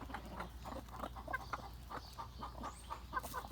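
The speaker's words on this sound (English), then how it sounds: "That's a chicken sneezing." Chickens scratching in dust give a run of short, faint sneezes mixed with soft clucks, spaced irregularly over a low background hum.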